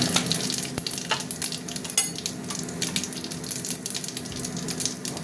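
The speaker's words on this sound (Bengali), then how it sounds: "গোটা জিরেটা একটু ভাজা ভাজা হোক।" Whole cumin seeds fry in hot oil with a bay leaf and two chillies to temper dal, giving a steady close sizzle with crackles and the scrape of stirring, with no talk.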